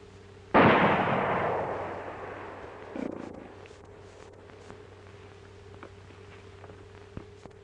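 Gunfire in a 1942 Western film: one loud, sharp shot with a long echoing decay, then a second fainter report about two seconds later, over a low steady background hum.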